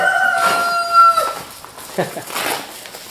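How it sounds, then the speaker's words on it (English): A rooster crows loudly nearby, its long call rising and trailing off, followed by faint clucking and someone talking. "Rooster's having fun"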